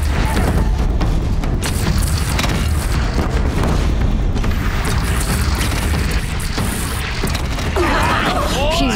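A heavy gun in Horizon Zero Dawn fires in a loud continuous barrage of booms and crashes, with a voice briefly audible near the end.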